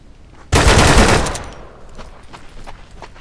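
A loud, sudden burst of rapid automatic gunfire in the Deadside survival shooter game, a dense volley lasting about a second that decays into scattered fainter shots and echoes.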